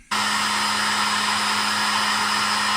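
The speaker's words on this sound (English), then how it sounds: "we've got the lathe going and we're turning the pin, but it's a little bit noisy to talk over" A lathe starts abruptly and turns a small metal pin for an 1860s silver ladies' pocket watch, giving a loud, steady mechanical whir with a constant underlying hum that runs unbroken.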